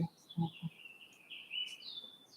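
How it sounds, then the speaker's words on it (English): Birds sing outdoors, with faint high chirps and a thin trill in the distance over quiet low background noise. "The birds singing"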